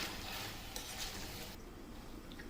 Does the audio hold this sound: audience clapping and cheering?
no